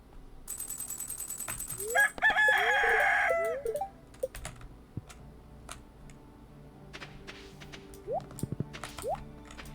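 Chickens in the farming game Stardew Valley crow and cluck, a loud rooster-like call near the start followed by scattered clucks, with rhythmic game ticks and bright interface blips around them.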